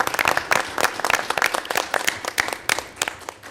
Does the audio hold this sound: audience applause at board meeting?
yes